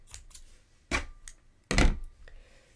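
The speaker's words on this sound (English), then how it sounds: "I'm going to cut my yarn" Scissors cut crochet yarn in two crisp snips about a second apart, close and clear, with soft handling noise around them.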